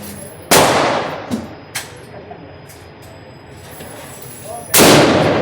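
Two loud shots from a 1935-made M91 Carcano long rifle firing .264 reloads outdoors, sharp cracks roughly four seconds apart with a few fainter knocks and background noise between them.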